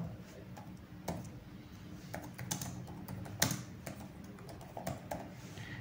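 Python code typed on a computer keyboard, with irregular clusters of sharp close key clicks and occasional heavier taps, played alone at a moderate level.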